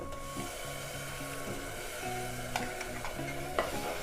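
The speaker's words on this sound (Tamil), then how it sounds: "இது ஒரு 2 செகண்ட் இப்படி ஃப்ரை பண்ணால் போதும்." A ground masala paste sautés in a pan for a potato and pea kurma, giving a low sizzle with occasional scraping stirs beneath a steady background tune.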